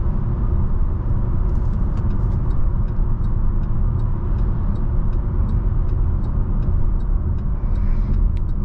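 A 2023 Buick Encore GX with a 1.3-litre three-cylinder engine driving on the road: a steady low engine and road rumble that holds constant throughout, with faint light ticking above it.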